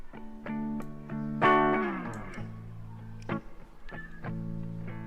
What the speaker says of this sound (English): Looper pedal, very nice.